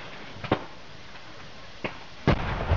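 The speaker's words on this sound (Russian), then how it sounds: "Вернее, выстрел, свист и взрыв." Artillery shots and explosions from fighting near Nikishino sound as three sharp, fairly distant bangs spaced irregularly, the last and loudest followed by a rolling rumble over quiet outdoor ambience.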